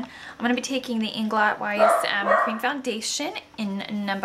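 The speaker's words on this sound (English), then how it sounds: "I'm sorry for the dogs barking yet again." Dogs barking indoors, short repeated barks and yips under someone talking, mostly behind her voice and moderately loud.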